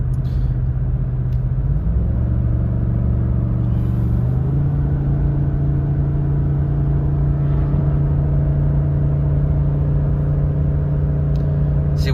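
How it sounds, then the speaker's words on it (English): A Ford 7.3-litre Godzilla V8 pickup tows up a grade with a steady, loud, droning engine hum that steps up in pitch as the transmission kicks down, continuing evenly throughout. "You can probably hear the engine,"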